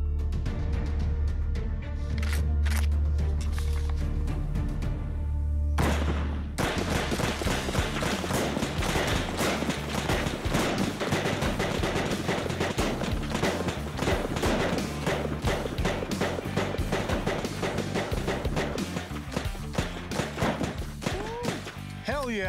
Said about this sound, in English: I thought 5 rounds we were supposed to shoot